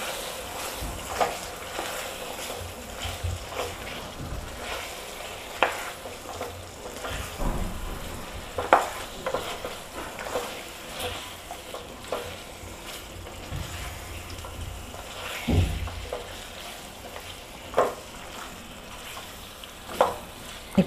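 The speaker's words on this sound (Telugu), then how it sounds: "అల్లం, వేసి 2 నిమిషాలు బాగా కలియబెడదామండి" Ginger stirred and frying in oil for chicken soup, a steady soft sizzle with occasional scraping stir clicks, faint and continuous, no talk.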